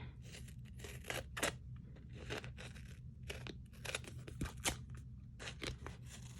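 Scissors snip and trim decorative cardstock paper for a handmade folio, giving a run of crisp, close cutting and rustling sounds with short pauses between strokes and no talking.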